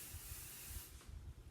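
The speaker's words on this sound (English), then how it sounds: "a little bit of finishing spray" Finishing hairspray sprayed onto a braided hairstyle, a steady close hiss of aerosol mist running for most of a second before it tapers off, with no voices.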